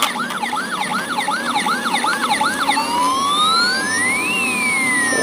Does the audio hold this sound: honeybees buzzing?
no